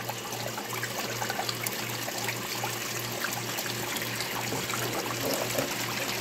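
Water runs steadily through a gold sluice fitted with a vibrator, a continuous trickling rush over a low pulsing mechanical hum, with no talking.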